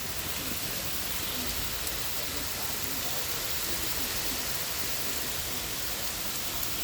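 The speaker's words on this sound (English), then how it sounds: "It's raining hard." Hard rain pouring outdoors, a dense even hiss of falling water close by, constant and loud throughout with no voices.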